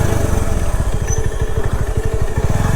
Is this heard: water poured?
no